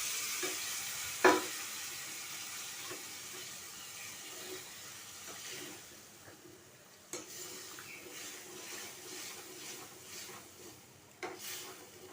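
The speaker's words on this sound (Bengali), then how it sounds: "খুব সুন্দর করে আলুগুলো কষে নিয়েছি" Potatoes frying and being stirred in a pan produce a continuous quiet sizzle, with a few sharp spoon knocks against the pan and occasional scraping strokes.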